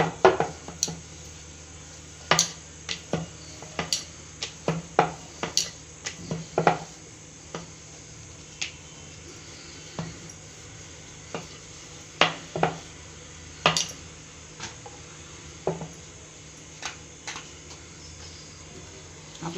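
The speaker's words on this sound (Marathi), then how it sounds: "आपण आता इथे पुरी लाटायला सुरुवात करूया." Puri dough balls being rolled out on a board, a steady run of knocks, taps and clatters from the rolling pin at close range, irregular but busy throughout, with no talking.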